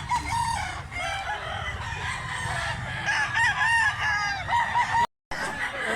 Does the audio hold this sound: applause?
no